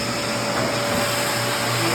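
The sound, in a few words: vacuum cleaner grooming a Persian cat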